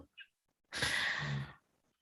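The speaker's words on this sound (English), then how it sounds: "she's snoring" A sleeping dog gives a single soft snore, a breathy rasp lasting under a second, close by and faint in an otherwise quiet room.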